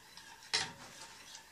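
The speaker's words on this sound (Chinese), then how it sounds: "要不停搅拌，等巧克力就是完全化开" A spoon stirs chocolate melting into hot milk in a pot over low heat, giving a brief scraping swish followed by soft, faint stirring in a quiet kitchen.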